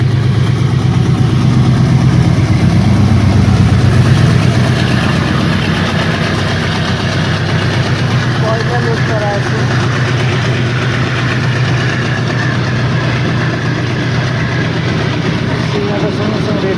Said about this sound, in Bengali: শব্দটাই দারুণ, ডিজেল লোকোমোটিভ